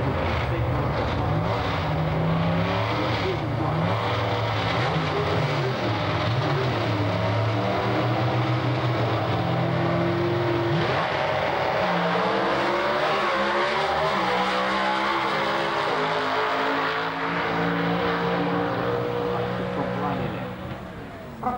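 Drag racing cars launching at Alastaro in 1991, a loud sustained roar of high-revving engines that rises through gear changes and rolls on, with an announcer talking over it.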